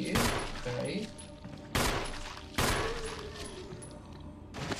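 Three loud pistol shots fired at a zombie in a Resident Evil survival horror game, each a sharp crack with a ringing decay, spaced about a second apart.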